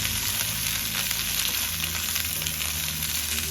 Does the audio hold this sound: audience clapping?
no